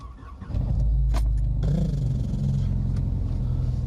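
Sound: Skoda car engine starting

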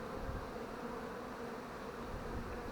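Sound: honey bees buzzing at hives

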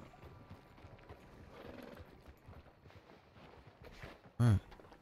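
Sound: horse hooves clopping, from a video game

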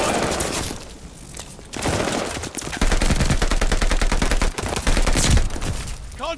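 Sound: gunfire in a video game

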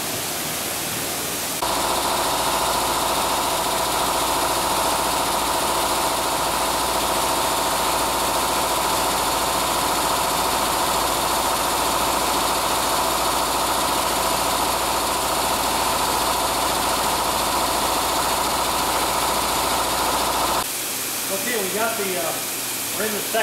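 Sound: finishing machine polishing transmission gears

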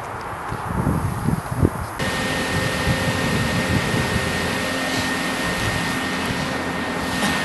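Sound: Everlast 205 plasma cutter cutting knife blanks

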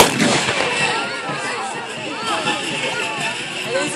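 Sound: gunshots at a knights' tournament battle reenactment

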